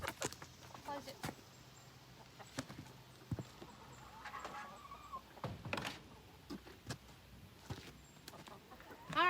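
Chickens cluck softly inside a coop, scattered and fairly faint, mixed with shuffling and knocks while a person talks.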